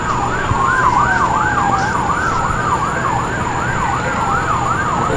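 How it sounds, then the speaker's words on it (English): A wailing fire truck siren rising and falling steadily over rumbling traffic noise, fairly close and loud. "I still hear more sirens approaching"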